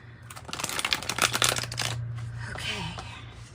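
Tarot and oracle cards shuffled by hand, a dense run of quick papery riffles and slaps for about two seconds, then softer rustling as the deck settles, heard close up with a steady low hum underneath.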